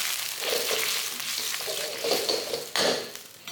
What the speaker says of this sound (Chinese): 虾米炒到金黄色后，加入蒜片，爆一爆香。